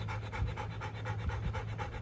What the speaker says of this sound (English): that's Maggie breathing in the background